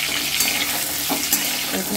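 Eggs lightly frying in a pan with cumin for an egg curry, a steady close, dense sizzle with a few small pops and no talking.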